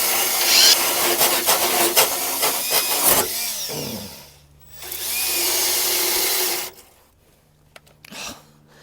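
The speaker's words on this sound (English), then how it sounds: "Let me give that spinning death wheel a try here." A cordless power tool with a weak battery spins a wire wheel against a Mazda B2500 pickup frame, giving a loud grinding whir that cuts out, then runs once more as a sagging steady hum before stopping.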